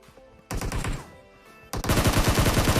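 M4 rifle fire in the PUBG video game, two loud sustained automatic bursts separated by a short lull, the second one heavier and continuing to the end.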